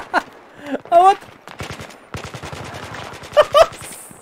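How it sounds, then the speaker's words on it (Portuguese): Automatic gunfire rattles in a chaotic Battlefield 3 team deathmatch, a long rapid burst of shots in the middle, with excited voices shouting over it at the start and end. "Entrou atirando pra cima, pro lado!"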